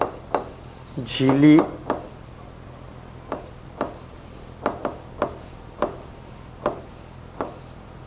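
Chalk or marker tapping and scraping on a classroom board during a Hindi-medium science lecture, a series of short strokes at irregular intervals with a brief voice early on.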